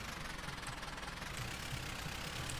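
A Case tractor in Farming Simulator 15 labours while ploughing, its engine producing a steady, knocking drone with a slight rise in intensity partway through, continuous and fairly close, with no speech.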